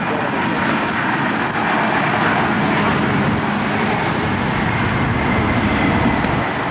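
Boeing 747-200 jet engines at an air show at Andrews Air Force Base, a loud, steady roar running continuously and close, without pause.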